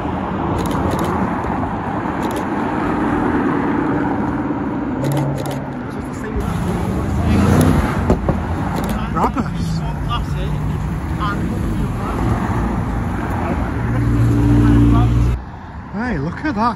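An Aston Martin Vanquish Coupe supercar drives past on a street in Alderley Edge, its engine swelling into a loud, close rumble and fading, with other traffic around and people talking nearby.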